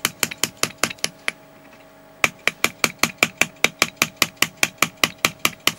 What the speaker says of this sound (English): I'm keeping the graver straight, I'm turning the vise with my left hand